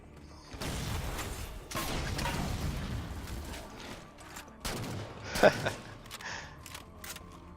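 Rapid bursts of gunfire from the Halo Spartan Ops video game, with DMR rifle shots fired against sword-wielding Elites. The shots come as dense, sustained volleys, then a sharper, louder shot rings out near the end.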